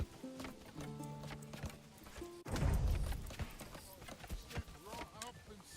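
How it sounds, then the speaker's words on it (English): Hooves of a horse clip-clop in a steady walking rhythm in the medieval strategy game Manor Lords, mixed with game ambience and under ongoing talk. "There's clearly a horse there."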